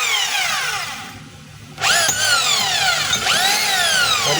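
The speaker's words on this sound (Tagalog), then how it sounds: "So testing muna natin yung kanyang hammer. So ayan, nakalagay po yan sa drill." A DeWalt D25032 rotary hammer drill whirs loudly up to speed, cuts off briefly, then restarts twice with rising whines and steady spinning, close and alone.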